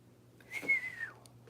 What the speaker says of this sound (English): I keep trying to whistle without my grill in properly.